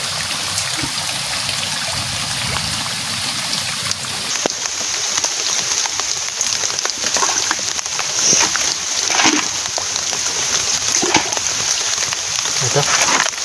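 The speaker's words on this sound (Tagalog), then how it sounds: "Palakas na ng palakas ang ulan guys." Heavy rain pours outdoors at night during a crab hunt, a dense continuous hiss of drops striking water and surfaces that stays loud and steady the whole time, with a voice speaking faintly beneath.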